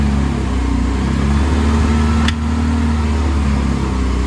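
A 1979 Triumph Spitfire four-cylinder engine pulling in first gear with a worn clutch slave cylinder, a steady low rumbling drone heard from inside the car, with a brief sharp click midway.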